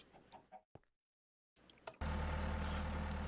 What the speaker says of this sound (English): let's go ahead and turn on the diesel engine